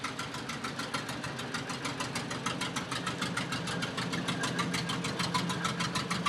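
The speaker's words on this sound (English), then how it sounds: "Now, this one's an old one. I don't know what that one is for sure, but that is really a neat tractor." An old tractor engine runs steadily in a county fair parade, a close, evenly thumping mid-pitched putter with a regular rhythm and no talking.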